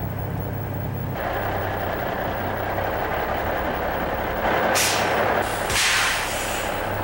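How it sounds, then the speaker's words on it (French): Heavy truck with a trailer idles steadily during a pre-trip safety inspection, then its full service air brakes release a couple of loud, sharp hissing bursts nearby near the end. "Enfin, les freins de service au complet."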